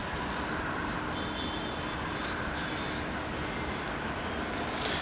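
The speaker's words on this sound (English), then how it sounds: "737-800 performing that turn and burn as we just saw there." A Qantas Boeing 737-800 takes off quickly from Melbourne Airport, a steady, loud broadband jet engine roar that holds throughout without talk.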